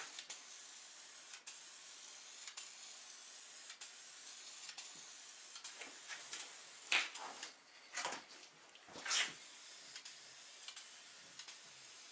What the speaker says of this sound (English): I'm just going to give this a coat of paint with some spray cans